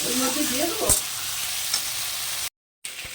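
Potato pieces frying for posto give a steady close sizzle with a few stirring scrapes, then a brief cut to silence before the hiss resumes.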